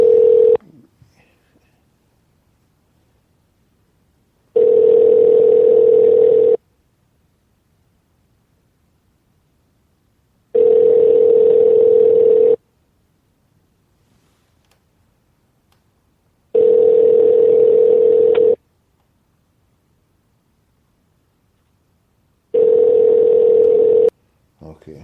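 A telephone dial tone, the ringing of an outgoing call back to a caller during a live radio phone-in show, sounds in five steady, evenly spaced bursts of about two seconds with silence between, clear and alone.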